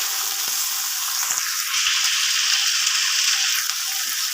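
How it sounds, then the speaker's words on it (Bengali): Taro stolons with garlic and green chili sizzle steadily in a hot oiled pan, with soft scraping as they are stirred close by. "হালকা নাড়াচাড়া করে কচুরলতিটাকে দিয়ে দিলাম, একটু দিয়ে তখন ভালোভাবে নাড়াচাড়া করলাম।"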